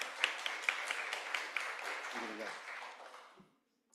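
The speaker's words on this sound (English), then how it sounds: "let's give him a big round of applause as well" Applause at a public school board business meeting, a room full of hands clapping steadily at moderate distance for about three seconds before fading out, with a few louder claps standing out.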